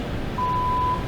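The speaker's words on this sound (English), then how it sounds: "hey, it beeps." A single steady electronic beep from a DIY electronics kit MP3 player sounds as one sustained tone lasting under a second, set against a noisy background hum.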